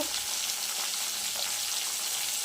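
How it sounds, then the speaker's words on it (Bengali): Pieces of parshe fish fry in hot oil with an even, loud, close-up sizzle that holds steady for a couple of seconds and then cuts off abruptly. "বাকি মাছগুলো ভাজা হচ্ছে।"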